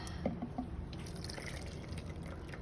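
Water drains from an RCA portable washing machine in steady trickling and dripping, close and continuous, with a few brief knocks early on.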